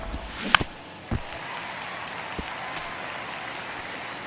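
Crowd at a baseball stadium in MLB The Show 23, ninth inning of a one-run game, makes a low, steady murmur with a few brief sharp pops near the start.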